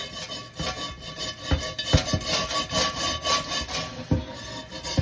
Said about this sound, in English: scrub and scrub and scrub till I get everything off in it